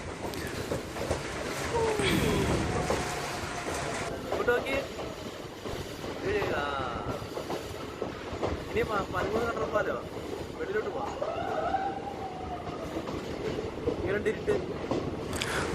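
A second-class train runs through a tunnel in the Western Ghats on the Punalur route, with a continuous loud rumble and rushing wind noise that swells and roars throughout.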